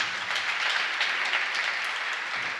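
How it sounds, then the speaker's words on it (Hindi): Audience applause at a Jain religious discourse (pravachan), a steady wash of many hands clapping that holds evenly throughout, with no speech over it. "उन बच्चों के लिए भी आपको ताली बजानी चाहिए।"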